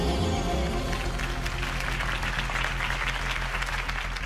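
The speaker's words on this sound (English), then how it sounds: "If only Mr. Wayne, my campaign's largest backer, could have heard that applause" A crowd applauds after a campaign speech in a Batman Telltale game, a dense, steady wash of clapping and cheering lasting several seconds over a low musical drone.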